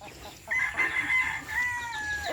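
A rooster crows once in a long, drawn-out call at moderate distance, with faint farmyard background noise.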